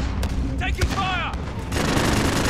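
Gunfire crackles during a battle with enemy armor and paratroopers, a burst of sharp shots mixed with shouted voices, then a rougher, denser wash of firing in the last second.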